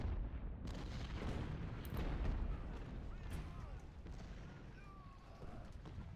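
Muffled cannon booms from artillery in a Civil War battle in Ultimate General rumble in the distance beneath steady low battlefield noise, with someone talking faintly in the background.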